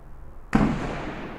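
One sharp SA80 L85A1 rifle shot at an outdoor range cracks loudly and then decays in a long echoing tail.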